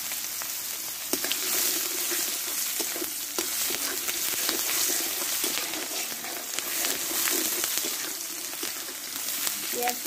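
Onion frying in hot oil with black cumin and bay leaves, a steady dense sizzle with light stirring clatter running evenly throughout, close and fairly loud, no talk.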